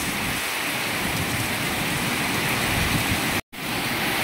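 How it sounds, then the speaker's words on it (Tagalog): Heavy rain pouring hard and intensifying, a dense loud roar of rain on surfaces that fills the whole clip with only a momentary dropout near the end. "Oh, lumakas pa ang ulan."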